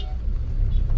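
Low, steady rumble of slow road traffic in Bulandshahr, with engines idling and creeping close by in a dense jam. It is a continuous heavy drone with no clear horn or talk.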